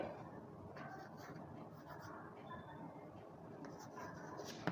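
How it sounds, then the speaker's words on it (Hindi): A marker or chalk writes a maths formula on a classroom board in a quiet room, making soft, faint scratchy strokes in short bursts with no talk. "चलो ऊपर में लिखते हैं यहाँ पे"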